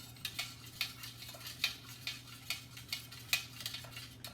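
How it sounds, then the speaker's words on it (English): Melted candle wax being stirred in a metal pot, about a dozen sharp, regular scraping clinks of the utensil against the sides, close and distinct with quiet pauses between. "So I'm gonna go ahead and stir, stir, stir. It needs to incorporate into the wax."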